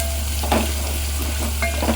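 Steady, close sizzling of spices tempering in hot oil for dal, with a few louder crackles and pops over a constant hiss.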